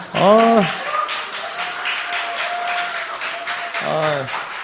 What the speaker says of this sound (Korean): 서로에게 우리 격려의 박수를,